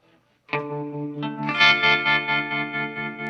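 Guitar through a Walrus Fundamental tremolo pedal at a slowed rate rings out a sustained chord that pulses in a choppy, rhythmic on-off throb, close and moderately loud with no speech.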